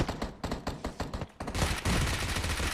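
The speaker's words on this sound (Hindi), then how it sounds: "मान्या ने भी अच्छी खासी गोलियां दागी" Dense bursts of gunfire from a battle royale video game, with rapid overlapping shots building into a loud, continuous barrage toward the end.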